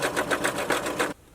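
A sewing machine runs a quick seam on fabric for a crochet blouse, its needle pulsing in an even rapid rhythm close by before stopping abruptly near the end.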